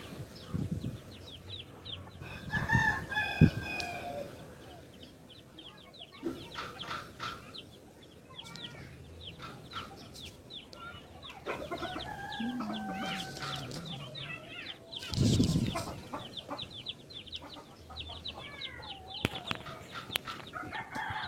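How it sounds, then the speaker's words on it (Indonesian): Chickens cluck steadily and a rooster crows in loud bursts nearby during a live religious study gathering, the noisy fowl calls filling the background with little speech. "suara ayam ini terus ribut"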